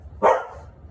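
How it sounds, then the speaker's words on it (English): A dog nearby gives a single short, sharp bark during grooming of a long show coat, brief and clear over a quiet background. "That's Rosie getting in the background there, getting ready to have a bark, it sounds like"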